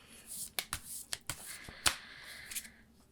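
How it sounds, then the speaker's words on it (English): A tarot card pulled from the deck: a handful of quick, sharp card snaps and flicks close by, irregularly spaced over a few seconds against a quiet background. "Let's pull one more card to close out on this topic."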